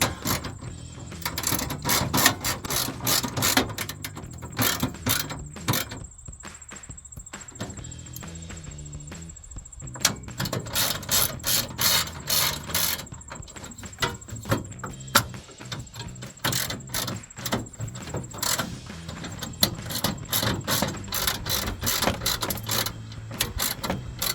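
Ratchet wrench loosening bolts from the intake bracket plate on a 1999-2006 Chevrolet Silverado 1500 during a cold air intake install: rapid, loud, close clicking in long bursts with short breaks, no talking.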